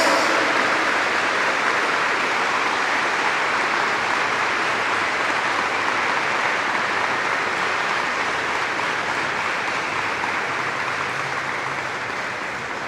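Congregation clapping in a Catholic church for the Virgin Mary, a thick, continuous wash of applause held at an even level for about thirteen seconds, fading slightly toward the end.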